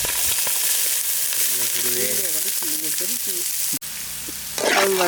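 Onions frying loudly in oil and butter in a pan, a strong continuous sizzle stirred close by, with a person talking over it in the middle and a sharp clatter near the end.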